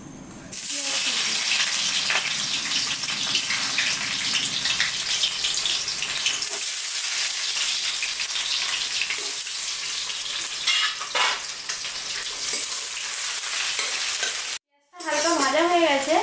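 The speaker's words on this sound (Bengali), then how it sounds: "মধ্যে দিয়ে দেবো সর্ষের তেল। আর দেবো এর মধ্যে পেঁয়াজ।" Onion fries in hot mustard oil in a heated pan, giving a loud, continuous sizzle with stirring scrapes throughout, a brief silent break near the end, and a voice over the cooking at the close.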